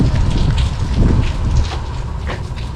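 Rain falling steadily on the road toward Gwadar, a dense, loud hiss of drops and spatter with a constant rushing texture and no voices.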